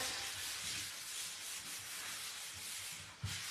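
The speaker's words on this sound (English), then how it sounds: "And again, just lightly sanding it." Steady, gentle sanding strokes rasp across a cabinet painted with mineral paint in a continuous rhythmic hiss, close and fairly quiet.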